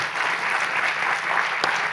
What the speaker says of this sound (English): So please, a big round of applause for our experts here on stage.